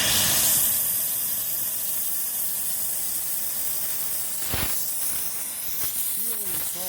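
An oxy torch flame hisses steadily as it burns oil out of cracks in hacked-off BMW pipes, a loud, continuous broadband roar with one sharp flaring burst partway through.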